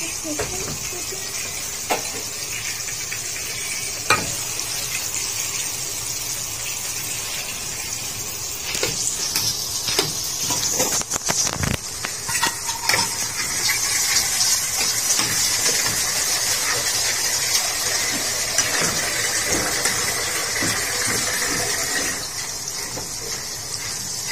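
Water poured into a hot cooking pot for a home-cooked Ramadan meal sets off a steady, close hiss of steam and sizzle that swells from about nine seconds on, with scattered clinks and stirring throughout.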